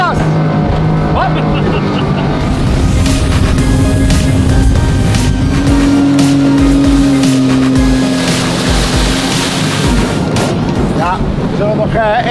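A speedboat engine at full throttle, a loud steady roar with wind buffeting the microphone and water rushing past, while people talk over it.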